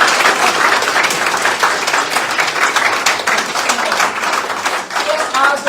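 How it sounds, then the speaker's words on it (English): Sustained applause and clapping from a crowd at a party press gathering closing a special senatorial election campaign, dense and loud throughout with a few murmuring voices underneath. "So this is big clap for yourself and for the people."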